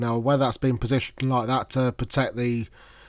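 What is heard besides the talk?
No everyday noise stands out behind the speech.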